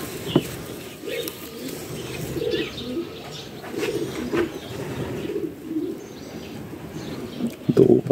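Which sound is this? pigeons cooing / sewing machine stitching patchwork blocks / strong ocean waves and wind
pigeons cooing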